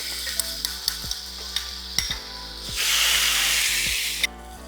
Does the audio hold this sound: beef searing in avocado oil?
yes